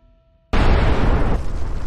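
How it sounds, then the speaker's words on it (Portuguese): Asteroid impact explosion as a documentary sound effect: after half a second of near silence a sudden loud, deep blast erupts and rumbles on, easing slightly toward the end. "No momento seguinte, uma explosão superpoderosa faz o solo tremer."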